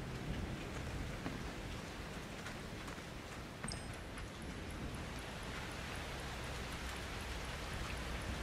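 Steady rain patters across the whole stretch in the video game Outlast 2, a dense hiss of drops with a few brighter taps and a faint high electronic tone partway through.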